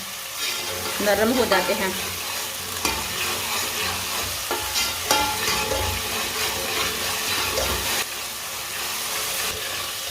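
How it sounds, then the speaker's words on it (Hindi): Tomatoes cook in a hot pan for an aloo palak dish, giving a steady loud sizzle and hiss with occasional stirring scrapes, while someone speaks briefly over it. "टमाटर को भी 2 मिनट के लिए पका लेंगे।"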